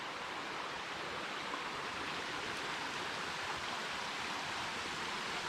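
Water flows steadily in Tonto Creek, a soft, even rushing that continues unbroken and fairly faint, with no voices over it.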